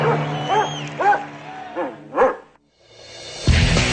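A dog barks and yips in a quick series of sharp, close calls, broken by a brief silence before a louder burst of noise at the end, at an event testing a dog's record high jump, climb and retrieval.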